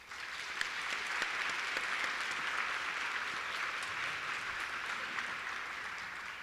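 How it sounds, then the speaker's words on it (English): Sustained audience applause at a school district teaching excellence luncheon, a steady dense wash of many hands clapping in a large room, fairly even in loudness throughout with no talking. "I do want us to give them also a round of applause."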